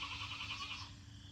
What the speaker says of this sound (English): Other than the goats.